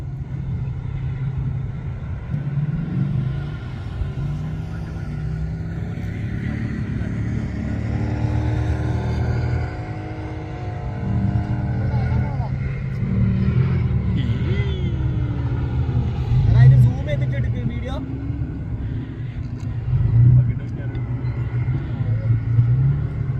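An off-road vehicle's engine drones and revs steadily while climbing steep desert sand dunes near Riyadh, Saudi Arabia. The engine noise is close and continuous, with voices talking over it throughout.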